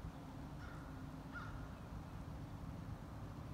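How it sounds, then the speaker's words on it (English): Two short harsh caws from a crow, fairly distant, over a constant low rumbling background; no voices. "Stupid crows."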